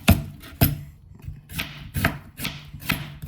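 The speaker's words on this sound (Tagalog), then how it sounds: "gayatin natin yung sibuyas" Knife slicing onion on a cutting board while preparing grilled octopus kilawin, a series of sharp separate chops, two quick cuts followed by several steadier strokes, close and distinct with no talk.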